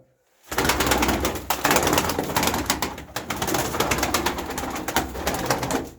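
Pigeons in a home coop coo and flutter close by, a busy, continuous stream of bird calls and rustling after a brief quiet start, with no talk.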